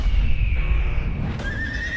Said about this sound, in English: Something very wrong with that horse.